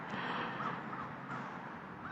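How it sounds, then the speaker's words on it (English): Crows cawing outdoors, a few harsh calls heard faintly at a distance over a low background hum. "Look at the crows."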